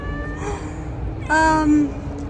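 A cat in Skopje near the Vardar river meows twice, close and fairly loud, the second meow longer and more drawn out, with a voice and outdoor background noise around it.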